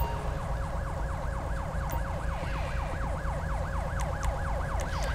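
An ambulance siren wails in Grand Theft Auto V, a fast rhythmic yelp cycling steadily over a low engine rumble, loud and close, with a few faint clicks and no voices.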